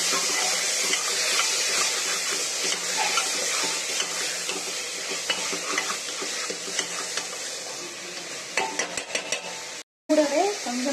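Green chilies and chopped tomatoes sauté in a pan for a Saidapet-style vadacurry, giving a continuous close sizzle with scraping stir strokes, then a short pause and a brief voice at the end.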